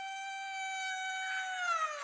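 A person imitating a howl, one sustained tonal wail held for about two seconds that dips slightly in pitch toward the end, clear and alone.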